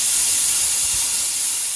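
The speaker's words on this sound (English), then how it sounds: "my compressor's probably going to kick in" Steady broad hiss of compressed air from a shop air compressor feeding an Eastwood media blaster, loud and continuous throughout, with no voices.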